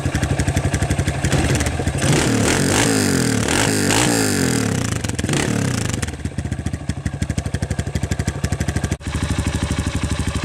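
A 2017 Honda CRF 230F motorcycle with rejetted carburetor and no exhaust baffles revs hard a couple of times, its engine loud and close with a rapid popping idle between blips.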